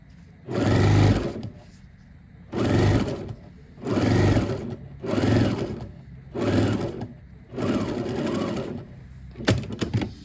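A sewing machine stitches white thread through outdoor furniture fabric, running in five or six loud, steady bursts of a few seconds each with brief pauses between them while the fabric is turned along the presser foot.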